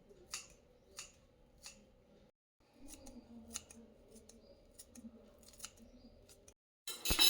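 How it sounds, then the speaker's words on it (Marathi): Fresh coriander being finely cut with scissors or a knife in a kitchen, giving a series of quiet, crisp snips at an irregular pace, close by. "ही सगळी कोथिंबीर आहे ना, आपण एकदम बारीक बारीक कट करून घेऊया"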